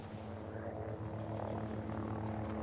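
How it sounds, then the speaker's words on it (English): A helicopter flies overhead in a multiplayer military shooter game, its steady, droning rotor and engine hum holding constant and fairly loud for the whole stretch, with no voices over it. "Chopper."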